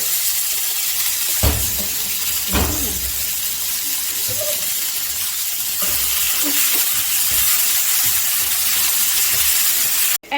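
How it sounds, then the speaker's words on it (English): Tomato sizzling in a hot frying pan, a loud steady hiss with a few soft stirring knocks throughout, and a brief voice in the background. "Add the tomato."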